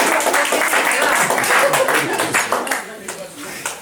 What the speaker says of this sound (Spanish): todos los recibimos un voto de aplauso